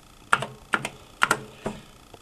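Quick keystrokes on an ADDS Regent 25 serial terminal keyboard: four short bursts of paired clacks, crisp and close, spaced evenly with brief gaps and no other sound.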